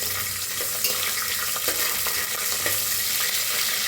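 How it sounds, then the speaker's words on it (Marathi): Vermicelli roasting in a pan while making kheer: a continuous bright dry sizzle with occasional stirring scrapes and light clinks, close and steady throughout. "त्याच्यातच शेवाळ्या भाजून घेऊया"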